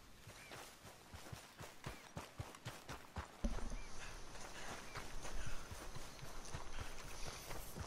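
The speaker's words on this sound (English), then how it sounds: "I'm hearing horses and wolves" Horse hooves clip-clop in steady walking rhythm in Red Dead Redemption 2, fairly close and continuous, with a denser wash of ambient outdoor noise joining partway through.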